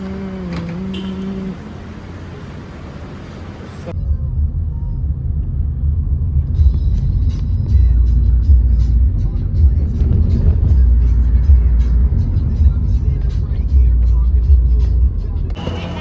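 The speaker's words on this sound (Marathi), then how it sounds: "सो आमची गाडी आलेली आहे" A vehicle pulls up on a street in Thailand: brief talk is heard first, then a loud, close engine rumble kicks in suddenly and holds steady to the end.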